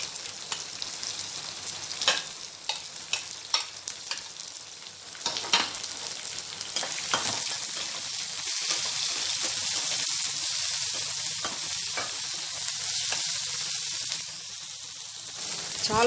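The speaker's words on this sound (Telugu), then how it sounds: "ఇప్పుడు పచ్చిమిరపకాయ ముక్కలు కొద్దిగా వేగిన తర్వాత ఉల్లిపాయ ముక్కలు కూడా" Green chilli pieces and onion pieces frying in a pan for a chukka kura pachadi, a steady close sizzle with scattered sharp crackles and pops and occasional stirring scrapes, without any talk.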